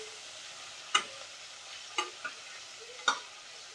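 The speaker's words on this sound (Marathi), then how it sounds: "मिरच्या सुद्धा बारीक गॅसवरती बारीक परतून घ्यायच्या।" Green chillies sauté gently in a pan over a low flame: a soft, faint sizzle runs throughout, broken by three distinct scraping stirs of a spoon about a second apart, with no talking.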